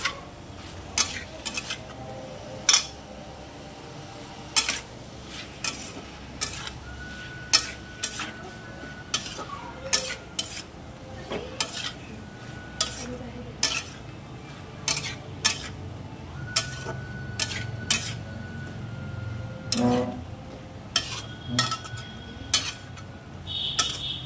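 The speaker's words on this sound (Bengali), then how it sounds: "একটু ভালো করে নাড়াচাড়া করে নেবে।" Spoon scraping and stirring half-boiled lentils mixed with spices and vegetables such as papaya and eggplant in a pan, a steady run of sharp metallic clinks and taps over a low simmering bed, no talking.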